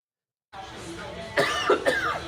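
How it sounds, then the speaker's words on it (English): Two sharp coughs from one person, close by, breaking through a low murmur of background noise. "That's me coughing."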